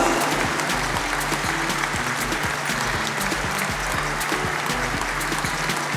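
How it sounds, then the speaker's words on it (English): A large audience at a literary festival event applauds to welcome a speaker onto the stage, a dense, steady wash of clapping sustained throughout, fairly loud and without talk. "Let's give her a huge round of applause."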